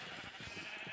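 Sheep bleat in a Minecraft farm area, a quick burst of short, faint, wavering cries layered over one another with no talking.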